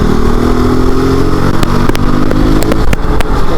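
A KOVE 450 Rally 2024 motorcycle accelerates hard up close, its loud engine note climbing steadily with sharp mechanical clicks near the end and no voices.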